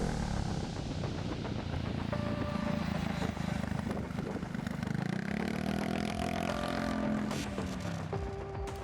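A motorcycle with a CVT gearbox, the scooter type with no gears or clutch, runs steadily at a moderate distance, its engine note rising and falling slightly across the whole stretch with no talk over it.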